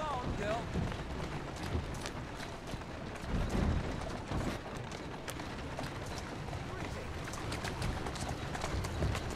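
Horse hooves clip-clop steadily through the streets of Victorian London in Assassin's Creed Syndicate, a walking gait under a dense game soundscape while a voice speaks softly to the horse.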